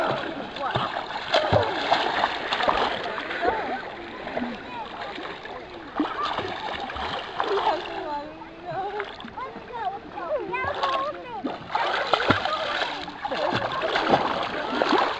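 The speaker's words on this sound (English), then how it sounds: "He is also very good at swimming." Splashing in water as a boy swims, irregular splashes and sloshing at moderate distance mixed with outdoor ambience and faint voices.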